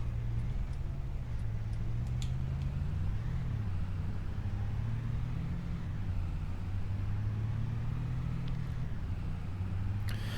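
A farm truck in the Barker Family Farm game drives along with a steady, low engine drone whose pitch gently rises and falls as it speeds up and eases off, with faint clicks on top.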